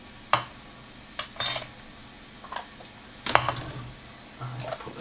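Spoons and kitchen utensils clink and clatter as they are gathered and dropped into a sink during soup making, in several sharp bursts of metal knocks spread over a few seconds, no voices.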